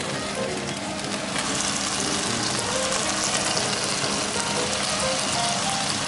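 Knobs of butter sizzling and frying in a hot pan alongside cod fillets, a dense, continuous crackling hiss close up and steady throughout, with no voices.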